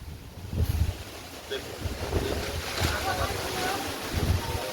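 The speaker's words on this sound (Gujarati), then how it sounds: "આમ તો પવન આવ્યો." Strong storm wind roars and gusts in steady broadband rushes with heavy buffeting on the microphone, loud and close throughout, with low rumbling surges.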